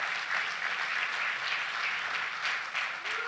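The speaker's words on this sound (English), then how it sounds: "Let's give Bishop Findlater a big round of applause." Audience applause for Bishop Findlater at a New York event with the governor, a steady dense wash of clapping that fills the room evenly from start to finish, no voices over it.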